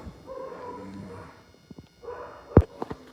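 Dogs at an animal shelter whimper and whine in drawn-out tones, followed by a few short yips and one sharp loud bark, heard close with little talk.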